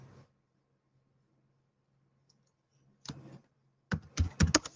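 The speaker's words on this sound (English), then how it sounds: "So I'm going to type in WIP serialized test" Typing on a computer keyboard, near-silence followed by a short burst of key taps and then a quick cluster of louder clicks at the end, close and without talk.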